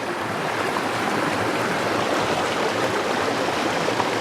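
Bear Creek flows near a campground where it meets its West Fork, a steady, loud rushing and babbling of water that fills the whole stretch without pause.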